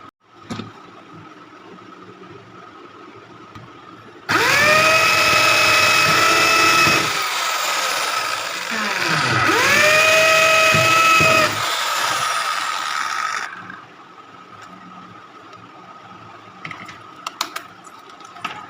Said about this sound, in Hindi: अब हम यहाँ पे स्क्रू के लिए जो है ये होल करते हैं।